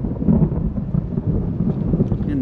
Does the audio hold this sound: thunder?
yes